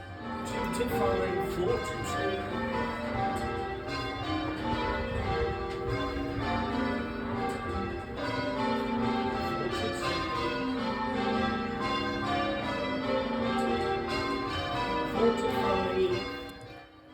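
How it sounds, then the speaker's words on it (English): Church bells rung by a band of ringers at St Michael's and All Angels in Beetham village, a dense, continuous peal of overlapping strikes ringing steadily and loudly throughout, with no voices. "Once the bells were all up, the ringers got plenty of time to have a good ring on them"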